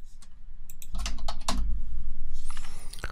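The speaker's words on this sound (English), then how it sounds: "We'll type in new text." Typing on a computer keyboard to enter new text, close and fairly loud, a quick run of irregular key clicks with a few heavier keystrokes, no voices.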